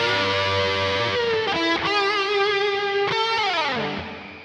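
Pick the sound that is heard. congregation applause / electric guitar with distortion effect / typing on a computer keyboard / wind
electric guitar with distortion effect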